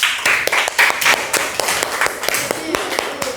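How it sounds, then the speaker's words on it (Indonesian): A classroom audience applauding a student group, with a burst of many hands clapping in quick irregular beats, close and loud, thinning toward sparse claps, with voices mixed in. "beri tepuk tangan untuk kelompok 2"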